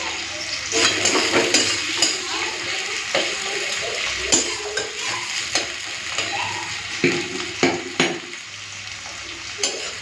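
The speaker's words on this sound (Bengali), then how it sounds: "চলুন পেঁয়াজটা দিয়ে দিই তেলে" Onions hit hot oil for a bitter gourd and potato chachchari, hissing steadily while a spatula scrapes and clinks against the pan in repeated bursts, close and fairly loud.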